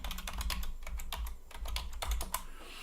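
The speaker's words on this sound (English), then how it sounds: "Let me put my super secret password in." Rapid keystrokes on a computer keyboard as a password is entered, a steady patter of close, crisp clicks with a few heavier key hits, no talking.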